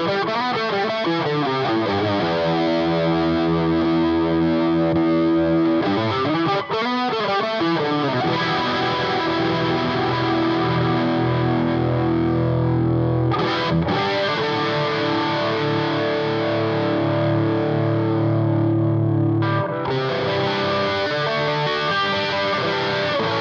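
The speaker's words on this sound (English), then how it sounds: "So let's put in a chorus." Electric guitar played through a HeadRush rig with distortion and chorus, sustained chords ringing out with brief pauses and chord changes, loud and alone.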